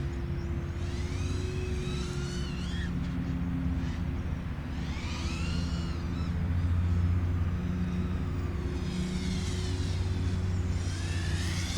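An FPV quadcopter, a Diatone GT-R349 on Gemfan 3028 props, screams past at full throttle, its high-pitched motor whine sweeping up and down over several passes against steady low background rumble, with no talking.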